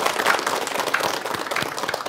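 A studio audience at a televised Islamic religious program claps together, a dense, fairly even patter of hands lasting about two seconds at moderate level.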